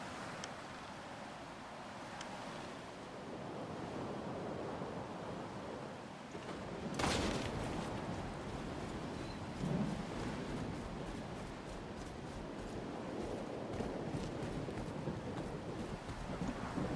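Wind gusting across an open outdoor area in S.T.A.L.K.E.R. 2: Heart of Chornobyl, a steady broadband rush that swells around the midpoint and keeps blowing throughout with no talk.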